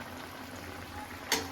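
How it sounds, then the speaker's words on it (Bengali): Potato and drumstick curry in mustard-poppy paste bubbling in a pot, a steady soft simmering burble heard close, with a short brighter splash of bubbling near the end. "দেখে নি ফুটছে কেমন।"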